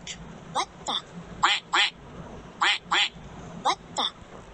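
A duck quacks in short bursts, mostly in pairs with brief pauses between, clear and fairly close over a low background hum.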